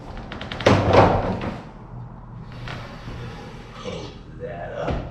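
A door on a snake enclosure at a reptile exhibit is swung shut, with a couple of knocks and a thud near the start, then quieter handling noise. Someone talks nearby.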